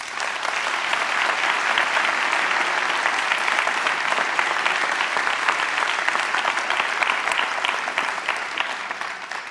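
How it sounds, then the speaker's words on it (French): Audience at a New Year's greetings ceremony applauding two interpreters, dense sustained clapping from a large crowd, loud and even for about nine seconds before tapering slightly. "On peut les applaudir chaleureusement."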